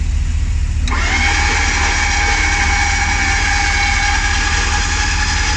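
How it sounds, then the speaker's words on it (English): A 2013-2018 RAM 1500 truck engine idling nearby, a constant low rumble with a sustained whine layered above it, unchanging throughout. "engine's running, so it's charging the battery"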